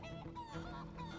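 A chicken in Divinity: Original Sin 2 clucks and squawks in a short honking burst, fairly faint and alone.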